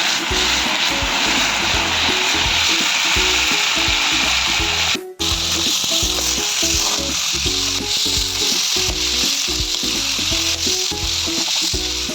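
Onion, garlic, ginger and pepper sautéing in a pan for frog adobo give a loud, dense, roaring sizzle close up, with rhythmic spatula stirring strokes throughout and a brief dropout midway.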